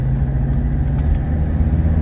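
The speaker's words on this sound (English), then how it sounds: "we're just going to drive normal here" Steady low diesel engine rumble of a 1982 Mercedes 300D on the move, heard from inside, constant and fairly loud with no talking.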